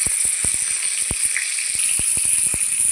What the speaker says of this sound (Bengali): কড়াইয়ে তেল দিয়েছি, তেলও গরম হয়ে গেছে। তো মাছ ভেজে নেব।